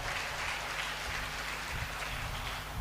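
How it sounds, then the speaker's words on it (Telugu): A church congregation claps together in a steady, dense patter that stays fairly soft and distant throughout, with no voices on top. "గట్టిగా చప్పట్లు కొట్టండి, గట్టిగా దేవునికి స్తోత్రం"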